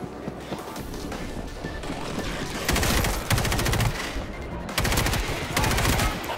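Rapid gunfire bursts in World War Z as players defend a hospital from a zombie horde in New York, loud dense volleys that swell in two heavy stretches, with little talk.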